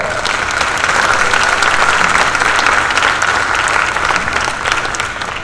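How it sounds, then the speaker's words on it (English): Steady applause from an audience at a school district restructuring meeting, a dense even patter of clapping holding at full volume throughout with no voices on top. "So let's give them another round of applause."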